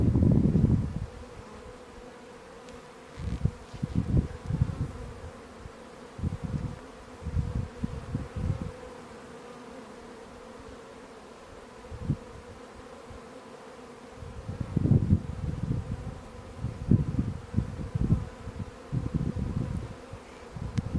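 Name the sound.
honey bees buzzing in an open beehive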